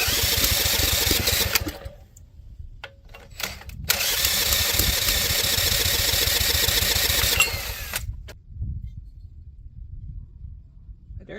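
A scrapped Tecumseh 3hp dual-output engine is cranked with a drill and fails to start, with bursts of whirring cranking and sputtering that stop and restart between quieter gaps.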